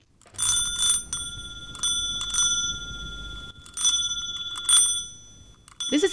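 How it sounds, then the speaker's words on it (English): A bicycle bell rings in several bright, metallic bursts of quick repeated dings, spaced across the span with short pauses between, loud and close with no talk. "That sounds like a bicycle bell."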